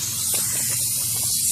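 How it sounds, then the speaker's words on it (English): Spray from a can hisses into the intake of a Mariner 350 marine engine in a steady, continuous burst of broadband sound, close and fairly loud, with no talk. "Spray a little bit in there."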